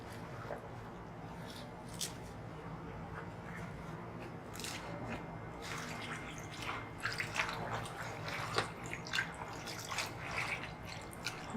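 Mustard greens for sarson ka saag are rinsed in water in a village-style kitchen, with soft splashing, dripping and squishy handling of wet leaves coming in irregular bursts, close and fairly quiet.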